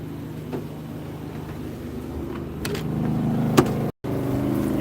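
A portable generator runs steadily by a small harbor, a constant low engine drone under faint background noise, with a couple of soft knocks and a brief dropout near the end.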